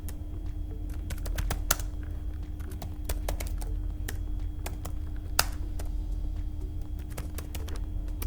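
Someone types a name on a computer keyboard, a quick irregular run of light, close key clicks over a low steady hum, with no speech.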